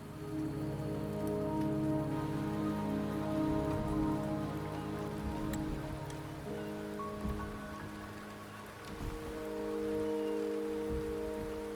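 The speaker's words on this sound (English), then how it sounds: "The rain is subsiding, and the sky will soon clear." Steady rain falls in the video game Wuthering Waves, a constant dense patter of drops on surfaces mixed with a soft tonal music bed, moderately quiet and without any voices.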